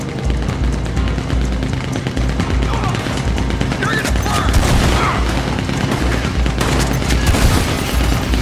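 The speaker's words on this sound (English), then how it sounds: "Let me get out my shotgun" Shotgun gunfire and a dense chaotic firefight in the online Western shooter Red Dead Redemption 2 Online, with continuous booming shots and crackling blasts filling the scene at loud, steady intensity.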